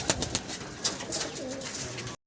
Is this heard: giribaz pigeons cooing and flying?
yes